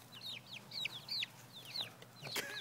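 Hens in a small backyard flock cluck and squawk in quick repeated calls, fairly close but quiet, with a brief scuffle of flapping near the end.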